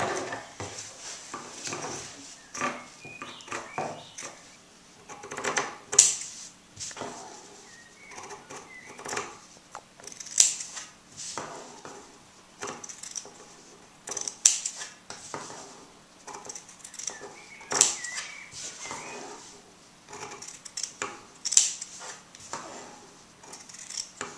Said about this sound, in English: I'm going to cut slits in each of these corners